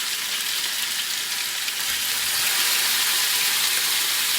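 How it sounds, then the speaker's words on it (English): Meat sears in a Pampered Chef bar pan with a steady, close hiss, a dense crackling sizzle that swells slightly partway through and carries on without talk. "And I'm going to sear this"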